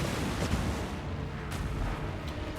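Artillery pounds away in a Total War: Warhammer 2 battle, a dense, continuous rumble of overlapping booms with occasional sharper shots standing out.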